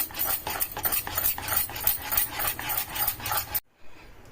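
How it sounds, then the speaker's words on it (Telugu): Rapid, steady whisking and stirring of rice-flour batter in a metal pot with a strainer, about a dozen scraping strokes in a regular rhythm, close by, then a sudden stop into near silence. "ఇట్లా మొత్తం ఇట్లా కలుపుకోవాలి స్టెయినర్ తోటి, మంచిగా ఉండలు లేకుండా."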